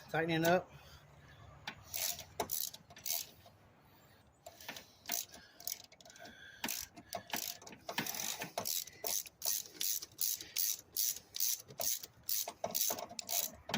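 Rapid ratchet clicks from a wrench tightening the serpentine belt tensioner on a 2011-2016 Hyundai Elantra, close and loud in steady repeated bursts after a brief pause, with light metallic rubbing between strokes.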